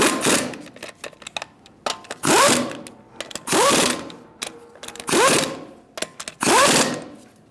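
A socket wrench works the wheel lug nuts on a 2000-2007 Ford Taurus, tightening them with a 19mm socket in a star pattern. Repeated bursts of ratcheting and spinning come up close, separated by short quiet pauses.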